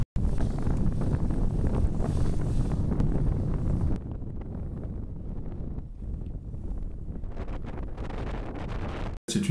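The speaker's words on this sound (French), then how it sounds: "On a un vent un petit peu instable avec des passages de nuages." Wind gusting across a microphone aboard a sailboat in unsteady breeze, a continuous loud roaring rush that eases slightly midway and then holds steady.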